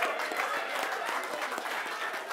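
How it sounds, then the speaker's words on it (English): An audience at an awards night applauds in a dense, steady wash of clapping from many hands, sustained throughout with no speech on top. "Big round of applause for Bruce."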